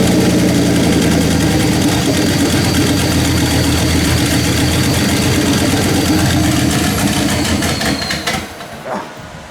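A turbocharged LS engine in a 1957 car idles loud and close, a rough, steady rumble that holds for several seconds before dipping and fading out near the end.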